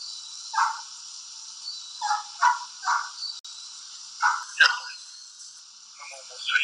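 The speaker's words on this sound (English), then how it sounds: "Do you hear the dogs now, Pickles?" Dogs barking in short bursts at kennels, heard from a distance behind steady background hiss and faint voices, about eight separate barks spread irregularly with gaps between them.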